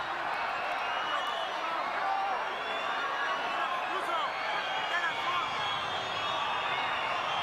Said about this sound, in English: Centenario crowd has gone a little quiet